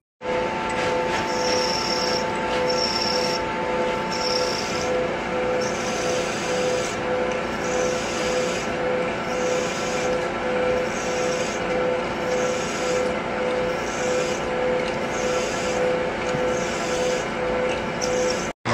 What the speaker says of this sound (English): we are milling the bottom side of the Tappet block